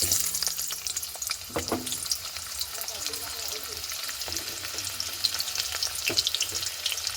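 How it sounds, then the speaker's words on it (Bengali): Onions hit hot oil and fry for a koi fish curry, with a steady close crackling sizzle and a few stirring scrapes and clinks throughout, moderately loud, without any talk. "প্রথমে দিয়ে দেবো পেঁয়াজ তেলে"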